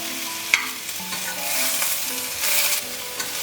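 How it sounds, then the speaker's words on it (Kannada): Onion and tomato masala frying in a pan for a South Indian lunch, a close, loud continuous sizzle with a spatula clack at the start and repeated scraping stirs across the pan. "ಇದ್ರ ಜೊತೆ ಇದನ್ನು ಫ್ರೈ ಮಾಡ್ಕೋಬೇಕು."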